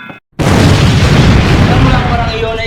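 A bomb explosion sound effect in a stage play: a sudden, loud, deep boom right after a brief silence, roaring and rumbling for about two seconds before slowly easing.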